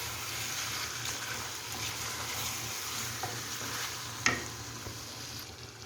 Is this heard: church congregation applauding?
no